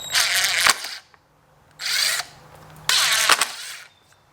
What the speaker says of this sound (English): now we're going to grab a 1/4 inch bit and we're going to widen these bad boys out